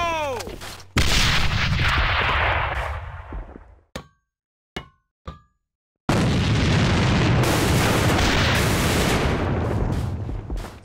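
A loud grenade blast in the online shooter A.V.A booms out, then cuts to near silence broken by a few sharp metallic clicks, before a second sustained roar of explosive noise and gunfire fills the rest.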